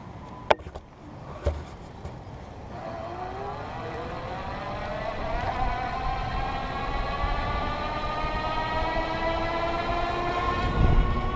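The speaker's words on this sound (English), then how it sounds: "This time I'm going to use the throttle." Kayman Flash electric bike motor running on throttle, a steady rising whine that climbs in pitch as it gains speed, continuous and fairly close, with a couple of brief knocks near the start and no talking.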